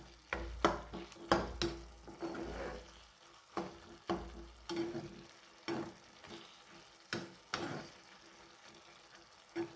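Spinach being stirred in a pan, with intermittent scraping and stirring strokes and a faint low sizzle, fairly quiet and close, brief soft sounds between strokes.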